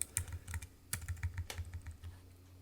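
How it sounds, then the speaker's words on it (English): Keyboard shortcuts are tapped on a computer keyboard: a handful of quiet, irregular key clicks close by, alone with no speech. "I prefer to use these keyboard shortcuts instead."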